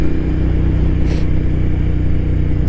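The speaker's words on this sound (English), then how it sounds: "Engine sounds real good. Exhaust, I should say." Cafe racer motorcycle engine and exhaust with a slightly clicky valvetrain, riding along at golden hour, a steady, loud, close drone with a constant pitch and no breaks throughout.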